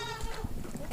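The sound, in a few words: goat bleating in a shelter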